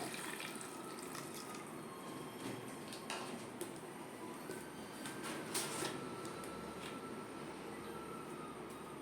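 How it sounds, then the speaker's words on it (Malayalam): Water pours and splashes steadily into a vessel, a continuous gushing wash with occasional clinks, no talking. "ഞാൻ ഇതിലേക്ക് ഇത്രയും വെള്ളം ഒഴിക്കുന്നുണ്ട്"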